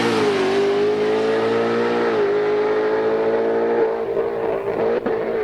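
Ford Mustang at a drag strip launches and pulls hard down the track, a loud sustained engine roar holding steady pitch with gear changes, fading slightly near the end amid open-air race ambience.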